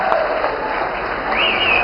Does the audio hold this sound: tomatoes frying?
no